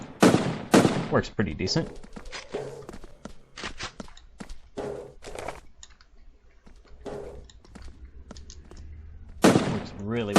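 Rifle shots from the blocky shooter Blockstorm crack in sharp bursts at the start and end, with scattered quieter shots and footsteps between, while someone briefly talks.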